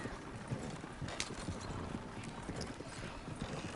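Hooves clip-clop in a fast, steady rhythm as a horse is pushed hard across country in the Red Dead Online game, the pounding gait continuous and close throughout, with no talk.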